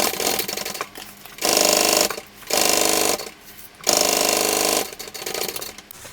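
Sewing machine stitching a Verona tote bag in quick, loud runs of rapid whirring, three long bursts separated by short pauses, with no talking.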